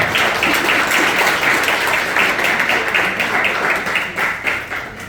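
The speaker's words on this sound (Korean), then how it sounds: "큰 박수로 시작하도록 하겠습니다" A crowd at a citizen-led floating solar power briefing opens the event with loud, continuous applause, dense clapping sustained throughout and tapering slightly at the end.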